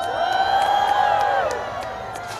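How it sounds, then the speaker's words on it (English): A crowd at the World Maker Faire in New York cheers with high whoops and shouts over a scattered background of claps, loud and close, then easing off toward the end. "You are now cheering wildly."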